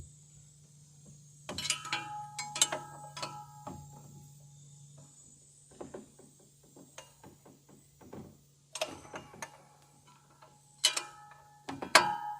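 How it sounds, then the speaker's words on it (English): A breaker bar on a half-inch drive works at the fan clutch of a 1995 Dodge Dakota, giving sharp metallic ratcheting clicks and clanks in irregular bursts over a low steady hum. "Using the breaker bar so we can get serious."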